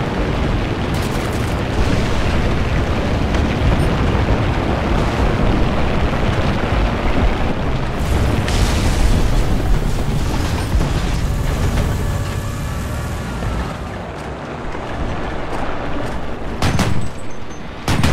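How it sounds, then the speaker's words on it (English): Artillery strike explosions in War Thunder come as a continuous loud rumble of overlapping booms and blasts, dense and thunderous throughout, with mechanical clatter mixed in. "Artillery, fire!"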